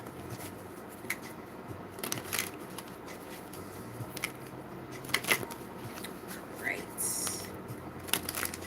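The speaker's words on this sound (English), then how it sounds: "Couple more shuffles." Soft papery riffling of tarot cards being shuffled in short bursts, close by, over a low background hum.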